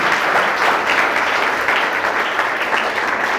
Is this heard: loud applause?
yes